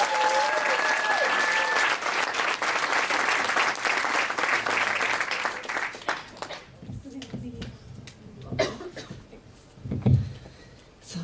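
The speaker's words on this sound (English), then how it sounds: "If you can give her a big round of applause" Audience applause at a Compass training event, a broad steady roar of clapping for about six seconds that fades out, followed by scattered noises and murmuring in the room.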